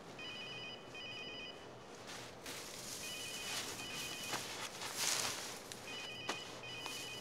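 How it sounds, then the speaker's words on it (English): A telephone rings again and again in a 2011 South African crime film, its bursts of bell tones repeating steadily over a room's background noise with no voices. "just the fucking phone won't stop ringing."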